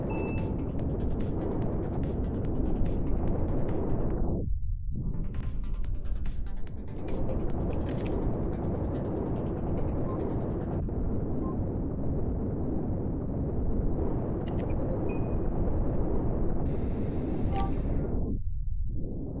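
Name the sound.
missiles exploding in a video game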